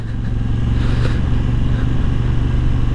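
A Moto Guzzi V85 TT motorcycle riding along a green lane, its engine a steady loud low throbbing rumble held close throughout, with faint clatter over it and no talking.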